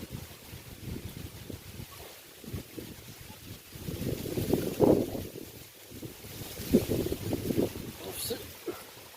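Wind gusting outdoors while fishing: rumbling, buffeting microphone wind noise rising and falling in uneven surges, with louder gusts midway and near the end, close and unsteady.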